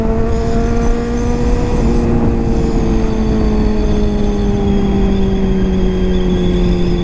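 Kawasaki Z900 motorcycle with a full aftermarket exhaust holds a loud, steady engine drone, its pitch sinking slowly as it pulls a wheelie, with no talk.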